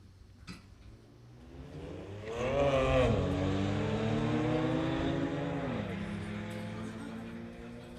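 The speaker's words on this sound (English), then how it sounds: "You can just hear him shifting away." A street-legal race car accelerates down an eighth-mile drag strip, its engine note climbing and dropping through gear shifts, heard from a distance as a moderate rising whine fading out.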